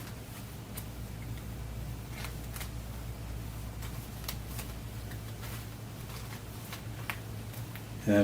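Sleeved hockey game cards being shuffled, with quiet scattered riffles and soft slaps spread over several seconds above a faint, steady background hum.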